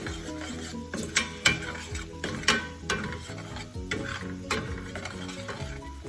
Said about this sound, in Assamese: এইখিনি অকমান ফ্ৰাই হওক যাতে মানে মছলাখিনি যাতে তেলটো এৰি দিয়ে